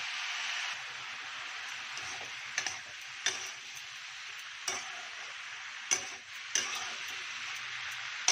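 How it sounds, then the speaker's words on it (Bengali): Mushroom and onion fry on a high flame in a steady, fairly quiet sizzle, broken by a handful of sharp spatula taps and scrapes as the pan is stirred. "আমি এটাকে 2 থেকে 3 মিনিট হাই ফ্লেমে পাকিয়ে নেব, ভাজা ভাজা করে নেব।"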